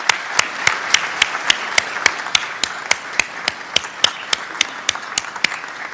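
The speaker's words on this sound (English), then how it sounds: "join me in applauding and expressing appreciation to this group of faculty and staff" A crowd at a pharmacy white coat ceremony applauds faculty and staff, a steady wash of hand claps with sharp, regular louder claps from one nearby person cutting through about every quarter second.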